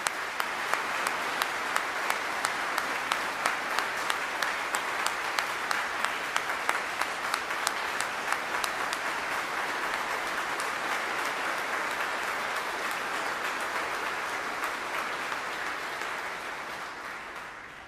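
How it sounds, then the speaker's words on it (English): Sustained applause from a ceremony audience at a military change of command, steady dense clapping that holds for about eighteen seconds before slowly fading, with no voices over it. "Please join me in a round of applause."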